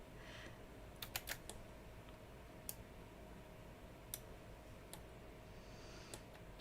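Sparse keystrokes on a computer keyboard, heard as faint scattered clicks in short bursts over steady background hiss, with no talking.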